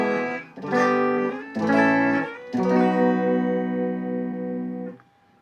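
An electric guitar through a '65 Twin Reverb amp with no effects plays three chords, the last held for a couple of seconds before being cut off sharply, clean and close.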